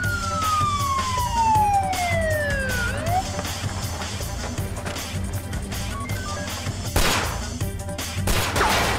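A police car siren wails with a falling, sliding tone over a busy nighttime street scene, loud and close, followed by a sharp bang and ongoing commotion.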